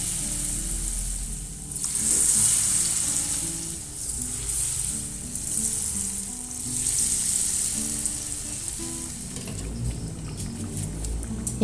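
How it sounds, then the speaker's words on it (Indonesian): Mung bean dough frying in hot oil, a steady crackling sizzle that swells and eases in waves, with occasional clinks of a utensil and no talking. "Nah, ini bisa kita goreng."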